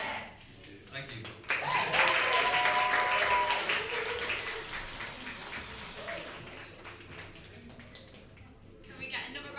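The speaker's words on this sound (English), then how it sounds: "Can we get another round of applause" Audience at a poetry lounge applauding after a spoken-word performance, clapping swelling quickly to a full, lively round, then thinning and fading, with faint voices underneath and a few scattered claps returning at the end.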